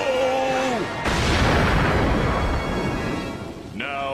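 Cartoon cannon fire: a single big blast booms in after a shouted order, followed by a long roaring rumble that fades before a voice returns.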